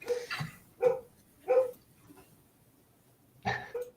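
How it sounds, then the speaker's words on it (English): Dogs barking indoors, four or five sharp barks spread unevenly over a few seconds, heard at moderate distance over faint room noise with no talk. "Oh, my dogs are barking."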